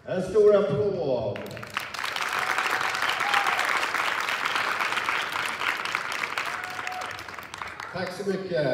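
At a wushu taolu championship, someone speaks briefly before the audience breaks into a full, even round of clapping for the winner, which carries on for several seconds until his voice returns.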